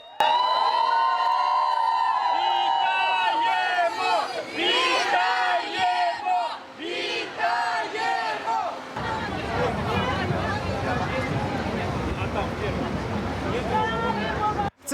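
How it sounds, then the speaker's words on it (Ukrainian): A crowd cheers, shouts and applauds as buses carrying returning Mariupol defenders pull into a hospital, a loud, dense mix of voices and clapping rising into a sustained roar, with close talk over it early on. "Їхні автобуси заїжджають до лікарні під вигуки. Дякуємо, вітаємо і шалені оплески."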